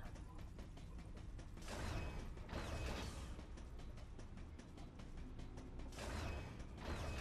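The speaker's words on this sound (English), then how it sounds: "That door is locked, but we can unlock it by accessing this panel" A locked door's unlocking mechanism in Metroid: Other M, heard as a steady run of mechanical clanks, ratcheting and creaks, with two louder surging whooshes, fairly loud and with no talk.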